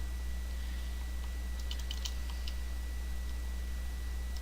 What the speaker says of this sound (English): Alright, so I'm going to type in control panel.